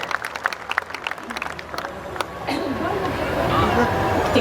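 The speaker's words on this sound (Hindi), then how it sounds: "अगर आप सुनना चाहते हैं तो एक बार तालियां बजाकर मुझे" Applause from an audience at a Hindi kavi sammelan poetry gathering: sharp scattered claps at first, thickening into a sustained wash of clapping and crowd noise.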